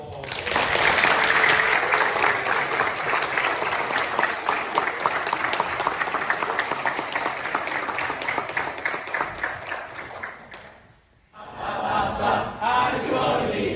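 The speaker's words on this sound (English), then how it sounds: "You can give them a round of applause." An audience claps and cheers steadily after a children's Christmas play, a dense, loud burst of applause that fades briefly, then picks up again near the end.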